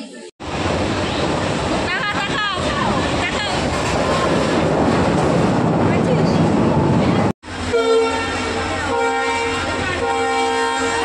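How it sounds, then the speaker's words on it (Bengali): A train rumbles loudly past at a railway station with a dense, continuous roar, and a horn blares near the end. Voices can be heard in the background. "আমরা এখন স্টেশন দিয়ে হেঁটে হেঁটে যাচ্ছি।"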